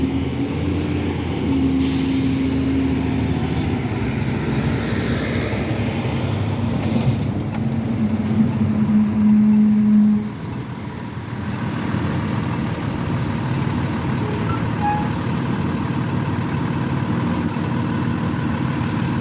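A delivery truck works near a street with new bus lanes, its engine rumbling steadily throughout while a sustained air-brake hiss or tone rises briefly early on and again mid-clip, close and fairly loud, with no talking.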